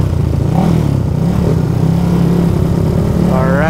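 Raider FI motorcycle with a 68 mm bore kit, engine droning steadily while riding alongside other Raider FI bikes, with a rising rev near the end and a voice talking over it.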